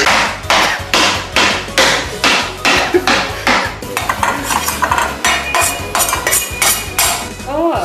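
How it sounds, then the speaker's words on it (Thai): A knife chops bacon on a cutting board again and again in a quick, steady rhythm of sharp chopping knocks, close up and loud, with no voices. "หั่นเบคอนอย่างวิถีพิถันนะครับ"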